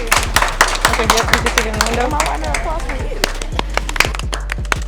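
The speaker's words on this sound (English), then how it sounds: "Let's give Sierra a round of applause" A classroom group applauds a student, scattered claps rising under ongoing chatter and short spoken remarks nearby, fairly loud and irregular throughout.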